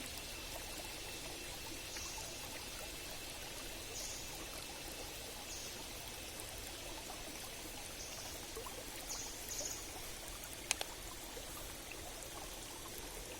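Three streams of water meet and flow together in a faint, continuous rushing wash with no distinct splashes, steady throughout.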